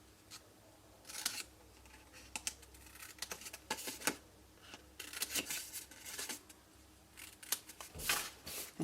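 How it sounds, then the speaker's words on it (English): Scissors make a series of quick, crisp snips while trimming the corners of cardstock and patterned paper, with irregular clusters of close, sharp cuts separated by short pauses. "So I'm going to trim out the corners"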